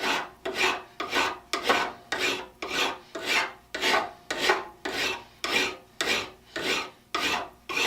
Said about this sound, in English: No need to go with a real fancy file on this one.